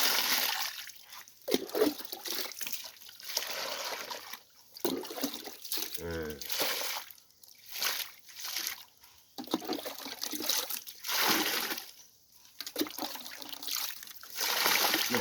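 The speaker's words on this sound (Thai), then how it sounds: "เอาน้ำใส่เข้าไปเลย" Water poured into pots holding bamboo cuttings so it reaches the base of the stems. Splashing and trickling come in several separate bursts with short pauses between them, and someone talks in the gaps.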